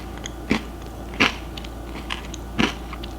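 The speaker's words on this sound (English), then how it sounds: "Yum! You get a crunch." Crunchy protein granola is bitten and chewed close up, giving three or four distinct loud crunches spaced about a second apart, with quiet pauses between them.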